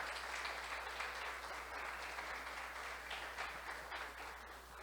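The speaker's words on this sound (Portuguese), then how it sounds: "Mais uma salva de palmas para ela" A church audience gives a steady wash of applause that sounds faint and distant throughout.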